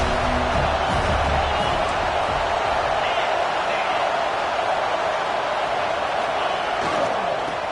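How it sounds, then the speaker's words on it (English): A college football stadium crowd at an Oregon game roars steadily as the noise swells before a play, a continuous broad wall of cheering under a commentator's voice. "this crowd is turning it up a notch"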